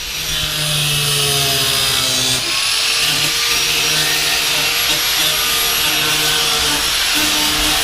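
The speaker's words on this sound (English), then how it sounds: "Just gotta put a couple more screws in" A power drill drives screws into the floor of a Toyota Sunrader camper being fiberglassed, giving a steady, close, high whine with small pitch shifts throughout.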